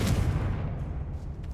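Confringo fire spell explosion in the Hogwarts Legacy video game: a loud, booming blast that hits at once and rumbles low, then fades over about a second and a half, with no talk.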